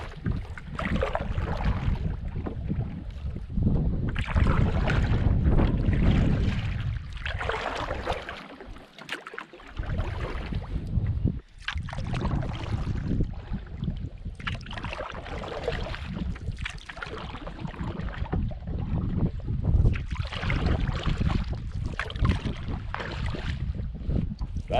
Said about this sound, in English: a little canoe camping here with Jamie back in the fold